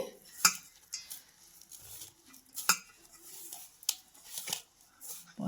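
Curd and ginger-garlic paste get mixed into fenugreek paratha dough in a bowl, with sparse, sharp clinks of a spoon against the vessel and soft squelchy stirring between them, close and quiet.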